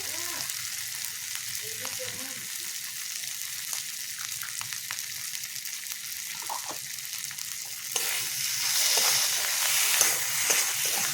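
Soybean curry with potato and salt sizzles steadily in a pan, a continuous broadband frying hiss with occasional stirring scrapes, growing louder and brighter near the end, no voices.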